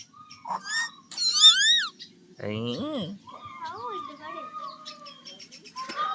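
A pet common myna makes a run of whistles, squeaks and speech-like chatter close up, in short bursts with brief gaps, and a person's voice is heard around it.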